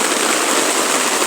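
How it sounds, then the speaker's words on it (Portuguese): Steady rain falling outdoors during a fishing trip, a dense, even wash of hiss that holds without a break for the whole moment, fairly loud and close, with no voices over it. "E lá fora está chovendo."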